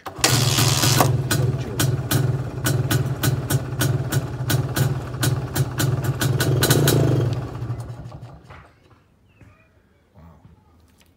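MZ ETZ250 two-stroke motorcycle started from cold, catching right away and running briefly with a sharp rapid beat, revving before it dies down near the end; someone speaks briefly over it.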